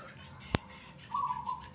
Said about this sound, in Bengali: চারিদিকে পাখিরা কিচিরমিচির আওয়াজ করতেছে